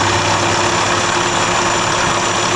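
A Toyota 22RE four-cylinder engine idles steadily under computer control, a loud, even, close mechanical hum with constant vibration and no talking.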